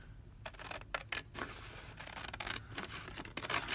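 Scissors trim oversized paper corners by hand for a concertina envelope journal, giving a run of short, close snipping and scraping cuts in quick irregular succession with no talk over them.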